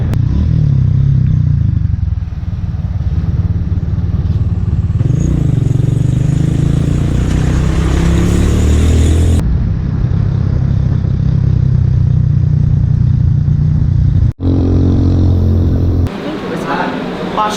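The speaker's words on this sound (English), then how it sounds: "Driving in the dark we go!" A motorbike rides at night along the Ha Giang Loop in northern Vietnam, its engine a steady close drone with wind rush throughout, dropping out briefly near the end.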